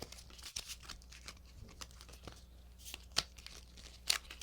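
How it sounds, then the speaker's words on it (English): A deck of ethics cards being shuffled by hand, soft papery riffles and slides with occasional sharper snaps, close and quiet, no talking. "I'm going to shuffle my handy dandy ethics cards"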